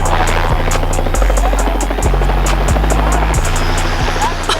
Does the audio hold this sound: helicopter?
yes